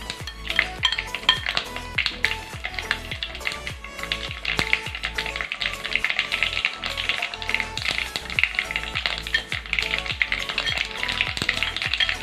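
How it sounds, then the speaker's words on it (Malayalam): Mustard seeds pop and crackle in hot oil while making Kerala-style beef pickle, a dense rapid stream of sharp pops over a steady sizzle, close and fairly loud with no talking. "അടുത്ത നമുക്ക് കടുക് ഇട്ട് കൊടുക്കാം. കടുക് പൊട്ടിക്ക് തീരുമ്പോൾ മതിയാവും."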